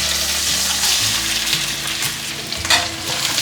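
White rice is tipped into a hot wok and stir-fried in about two tablespoons of oil with lemongrass and ginger, a loud close sizzle with scraping stirs and a brief rattle, no talking.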